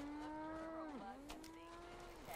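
A cow in the Fallout 76 game lets out a long, drawn-out moo that dips in pitch midway and then holds. The call is heard clearly, close by, over a faint background.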